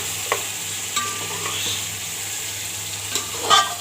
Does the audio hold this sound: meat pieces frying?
yes